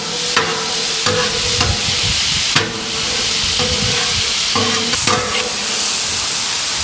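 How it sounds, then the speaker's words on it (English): Sliced meat for a Philly cheesesteak sizzles loudly and continuously on a hot griddle, punctuated by several sharp scraping stirs of a spatula, with no voices. "Again, you can see just how fast this is cooking up."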